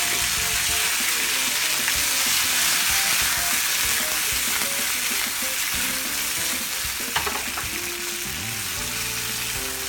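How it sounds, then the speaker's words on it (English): Previously grilled vegetables sizzle loudly as they warm in a pan, a continuous close frying hiss with occasional utensil clinks and faint background tones. "you want to go ahead and add off our already previously grilled veggies to just warm them up a bit. Careful it might splatter."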